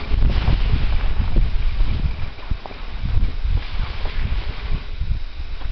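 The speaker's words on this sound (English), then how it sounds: "Still a little windy." Blustery wind buffets the microphone in a constant low rumble with gusty surges throughout, no voices heard.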